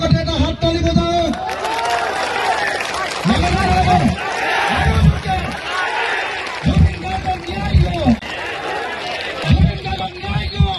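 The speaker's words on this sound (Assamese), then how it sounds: "এটা হাত তালি বজাওক।" Rally crowd at an outdoor public meeting in Juria, Rupohihat, clapping and cheering in repeated loud bursts, with a lively murmur of voices filling the gaps.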